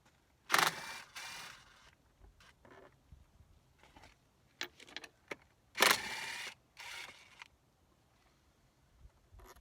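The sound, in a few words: 10mm socket wrench working on Yamaha outboard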